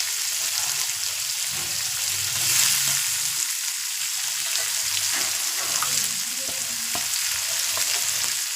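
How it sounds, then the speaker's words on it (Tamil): Chopped small onions and tomatoes frying with garam masala, a continuous dense sizzle with occasional light stirring taps, close and steady throughout, with no voices. "இப்போது வெங்காயத்தை போட்டுக்கலாம்."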